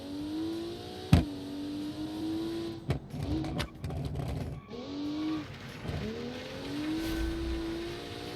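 Inline-six turbocharged engine rated at 470 horsepower in a modified sport wagon in a racing video game, revving and shifting through gears with rising and falling tones, an abrupt throttle blip near the start and brief mechanical clatters between pulls.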